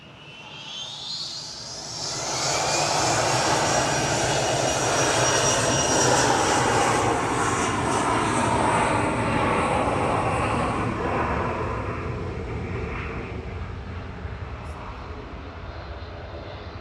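An ATR turboprop airliner's engines roar at an airport, a loud sustained drone with a high whine that swells over the first few seconds, holds steady, then slowly eases, heard alone without talk.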